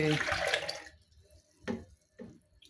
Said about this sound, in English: So first, we have to add water.